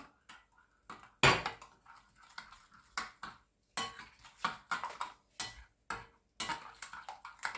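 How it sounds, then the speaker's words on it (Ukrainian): A spoon clinks and scrapes against a bowl in quick irregular bursts, stirring kefir batter for crispy fried pastries with short taps and pauses, close and fairly quiet. "Також розмішую легенько."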